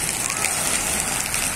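Rain falling on a street in Xique Xique, Bahia, making a steady, dense hiss of drops and splashing that fills the short stretch at moderate loudness.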